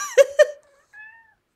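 Cat meowing, two quick loud meows close together, followed by a softer, thinner drawn-out meow after a short pause, close and clear in a quiet room.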